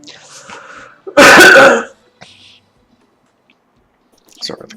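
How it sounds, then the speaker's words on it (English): A single sharp, loud cough bursts out close to the microphone, followed by quieter throat sounds and breaths. "Sorry about the cough."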